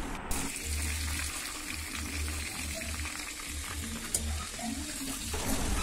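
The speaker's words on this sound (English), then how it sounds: "Same procedure, I'm gonna fry all the pieces." Chicken pieces for a spicy pepper chicken fry in coconut oil in a frying pan, giving a steady, close sizzle with faint bubbling that runs the whole time without pause.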